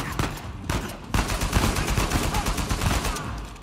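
Loud, rapid gunfire in the video game Uncharted 4, with dense overlapping bursts and a brief lull before a sustained barrage, close and intense throughout.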